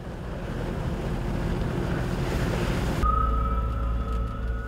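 Rough, heavy sea waves off Jeju just after a typhoon, heard from a fishing boat heading out to sea: a loud, continuous roar of surf and wind buffeting, then a steady low engine drone and whine after an abrupt shift, with no talk.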